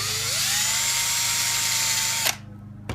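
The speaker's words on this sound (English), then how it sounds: "If you have a very sharp drill bit like this one, it doesn't take much pressure." A power drill with a very sharp bit whines up to speed and bores steadily with a high sustained tone, then cuts off abruptly, followed by a short final burst.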